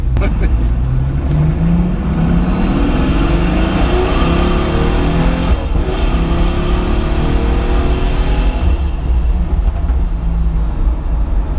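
A Pagani Huayra Roadster with a twin-turbo V12 and a one-off exhaust revs hard and loud nearby, rising and falling engine tones sweeping through the gears with induction roar, droning continuously throughout.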